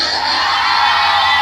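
A crowd at a sonido dance event in San Andrés Calpan shouts and cheers loudly for a band, a dense sustained roar of yells and whoops.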